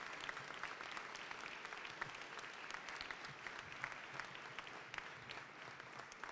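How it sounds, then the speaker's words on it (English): Families and guests clap at a medical college's white coat ceremony, a steady, dense wash of applause from a large crowd that continues evenly throughout, fairly distant and soft, with no speech. "give a big round of applause to your family and your loved ones here"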